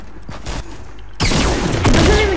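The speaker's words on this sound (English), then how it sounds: "Flippy, got me with a grenade." A grenade goes off in Fortnite after being stuck onto a player: a sudden loud burst midway, followed by a sustained roaring, crackling wash of blast noise and game effects.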